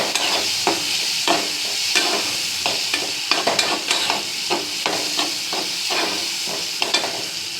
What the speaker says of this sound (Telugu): ఇలా వేసుకోవాలన్నమాట పోపు మనం.